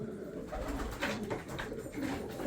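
Elvan pigeons cooing close by, soft repeated throaty coos in uneven bursts over a low background murmur.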